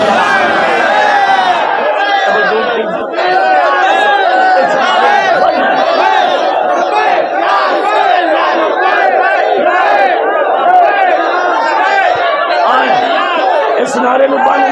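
A large crowd at a religious gathering chants a Labbaik slogan in unison, a loud, dense wall of many voices rising and falling continuously and close throughout.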